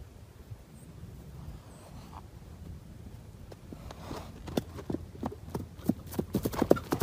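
A horse shifts and steps near a man lying still and playing dead, with soft hoof clops growing louder and more frequent toward the end over faint outdoor wind.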